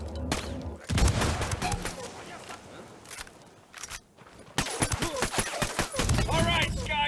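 Ghost Recon Wildlands combat: dense bursts of gunfire and a grenade-like blast fill the scene, loud and continuous with brief lulls, while voices speak over the battle.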